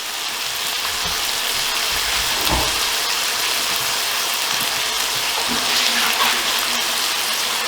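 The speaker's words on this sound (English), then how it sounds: "So I've just run some more cold water through them, make sure they're not stuck together." Cold tap water pours steadily through cooked noodles in a colander, a close, continuous hiss and splash with a few faint clinks along the way.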